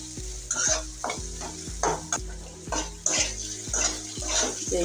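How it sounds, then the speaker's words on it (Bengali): Onions stirred in hot oil for a fish curry (shing mach bhuna), a steady loud sizzle broken by repeated scraping stir strokes in a rough rhythm, close up with no talking. "পেঁয়াজটা আমি তেলের সাথে ভালো করে নেড়ে চেড়ে ভেজে নেবো লাল লাল করে"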